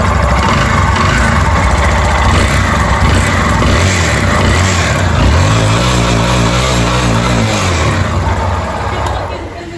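A Yamaha Fazer 250 motorcycle engine runs steadily and loudly up close, with a knocking noise in the engine, while people talk over it and the idle rises and falls slightly.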